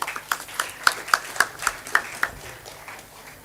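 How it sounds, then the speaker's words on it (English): Sparse, scattered clapping from a small audience at a degree certificate distribution ceremony, about eight distinct claps in a loose rhythm that thin out and fade toward the end, with no voices. "A big round of applause, everyone"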